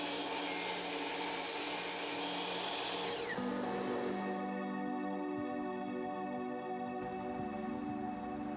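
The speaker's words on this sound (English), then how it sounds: "I cut down some pine for this back panel." Pine board being cut for a back panel of a modern cat tower and scratching post, a steady rasping wooden scrape that runs continuously and close up, with a high tonal whine that drops partway through, and no talking.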